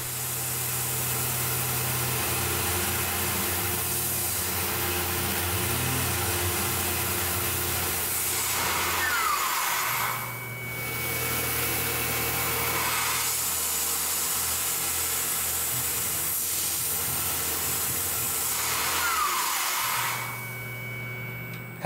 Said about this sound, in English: And we'll do a quick chamfer at the end.